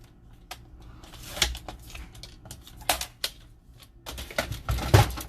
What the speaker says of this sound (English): And then I'll cut this out with